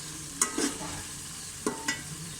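Potatoes and masala stir-fried in a pot for aloo pulao, a steady low sizzle broken by a few sharp spoon scrapes against the metal.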